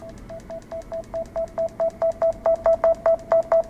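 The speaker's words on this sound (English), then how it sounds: "now we're going to test the volume button, starting with volume up" Volume-up button on a Galaxy Note 10+ fitted with a clear Ballistic Jewel Spark case, pressed repeatedly in a quick, even series of about fifteen sharp clicks that grow slightly louder, heard close up with no talking.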